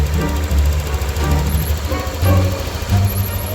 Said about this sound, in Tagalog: pakinggan niyo yung langit-ngit ng makina